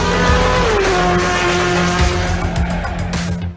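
A Volvo S60 Polestar TC1 touring race car with a turbocharged four-cylinder engine, winner of the FIA World Touring Car Championship race in Shanghai, drives loudly and steadily close by, its engine note dropping as a tire squeal trails off, with no talking.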